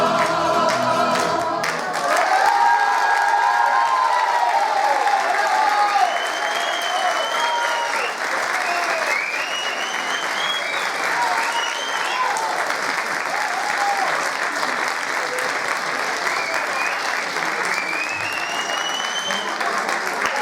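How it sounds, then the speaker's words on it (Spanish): A festival crowd at a cultural centre applauds and cheers after a veteran student tuna group's song, sustained loud clapping that fills the whole stretch, with whistles and shouts rising above it. "Un aplauso para ustedes también"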